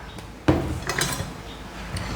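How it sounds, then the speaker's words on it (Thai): Cutting purple eggplant on the diagonal with a knife: one sharp chop on the board, followed by a few fainter slicing taps, close up and with no voices. "หั่นเฉียงนะคะ นี่ค่ะ หั่นเฉียงแบบนี้"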